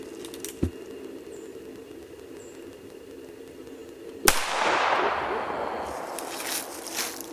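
One sharp, loud .45 revolver shot fired outdoors at an old lawn mower, cracking suddenly and then trailing into a rolling echo. A fainter pop sounds earlier, over quiet outdoor background.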